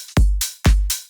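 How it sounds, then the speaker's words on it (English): A pre-shift clap layer in FL Studio: two crisp hits, each a low thump with a noisy snap followed closely by a brighter, airy clap burst, played alone and close. "So this is the pre-shift layer."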